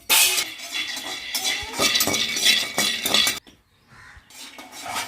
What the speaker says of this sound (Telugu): బాండీలో పల్లీలు వేసుకొని వేయించుకొని పక్కన తీసేసుకుందాం